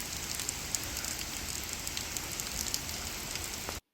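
Steady rain falling at a campsite in Tyler State Park, a dense continuous patter of drops on surfaces, fairly close and even throughout, cutting off abruptly at the end.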